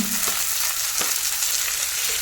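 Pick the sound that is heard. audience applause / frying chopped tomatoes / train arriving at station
frying chopped tomatoes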